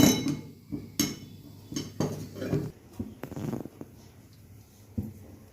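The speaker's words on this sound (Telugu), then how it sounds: "శొంఠిని మెత్తగా ముందు ఇలాంటి దాంట్లో దంచుకోవాలి" Dry ginger is pounded by hand in a small mortar, giving a series of sharp, irregular metallic thuds and clinks, several in quick succession, close and fairly loud.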